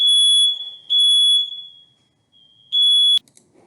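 A smoke alarm set off by cooking sounds three loud, sustained high-pitched beeps separated by short gaps. It ends in a sharp click, followed by faint low rustling.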